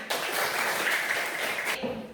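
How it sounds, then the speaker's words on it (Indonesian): Schoolchildren in a classroom applaud together, a dense burst of clapping lasting under two seconds before it cuts off sharply. "beri tepuk tangan untuk kita semuanya"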